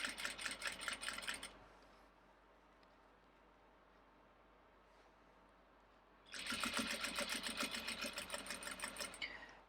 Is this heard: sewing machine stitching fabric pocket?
yes